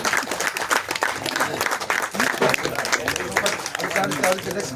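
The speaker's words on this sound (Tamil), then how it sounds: "அனைவருமே கைத்தட்டி" Audience at a real-estate sales meeting clapping for a flat booking, dense steady applause with scattered voices mixed in throughout.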